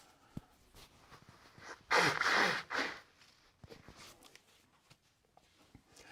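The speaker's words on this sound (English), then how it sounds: "I've got to blow my nose." A short, forceful nose blow of about a second, with a few faint rustles and small knocks before and after.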